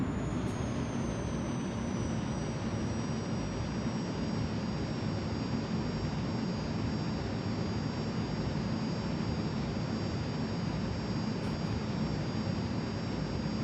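Jet aircraft engine in Flight Simulator 2020 throttled back to idle with the air brake out, a loud steady roar with a high whine and constant airflow rumble, continuous and alone.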